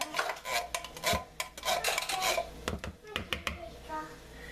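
Metal spoon clinks and scrapes against a casserole dish while stirring a green chili casserole in a home kitchen, a series of sharp close taps at irregular intervals, with faint background voices.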